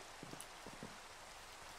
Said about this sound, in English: if this rain doesn't stop soon